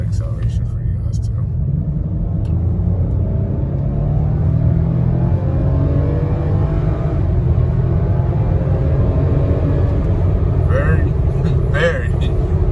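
A 2008 Lexus 350 car heard from inside, with steady, smooth engine and road rumble that holds even throughout and a few brief clicks near the end.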